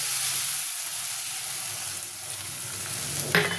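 Spiced paste sizzles steadily in a hot pan for a small-fish jhal curry, a dense broadband frying hiss, then a sudden louder burst of sizzle near the end as a little water is poured in.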